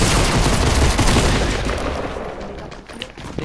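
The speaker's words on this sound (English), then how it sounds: "Don't stand still when somebody's shooting you with a shotgun." Dense, continuous gunfire and blasts from a Fortnite battle royale match, with shotgun fire in a loud, chaotic wash that thins slightly toward the end.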